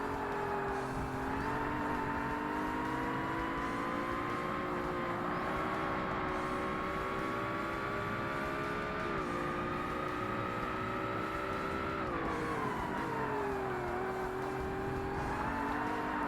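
A high-power racing car engine roars steadily in Forza Motorsport on hard difficulty, a loud continuous drone whose pitch climbs and drops with throttle and gear changes, with no talk over it.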